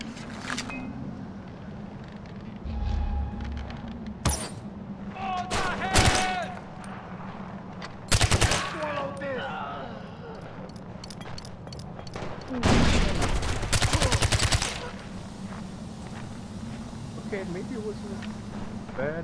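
Gunfire and explosions in the Far Cry 4 video game, scattered shots and sharp bursts with a few louder booming stretches, mixed under a player's speech across the whole passage.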